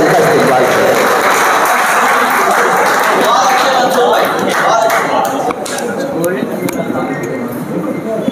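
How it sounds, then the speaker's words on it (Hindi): Audience at a Malegaon humor and satire poetry gathering breaks into loud, sustained applause, a dense wash of clapping that tapers slightly toward the end. "भरपूर तालियों उनका इस्तेमाल करें"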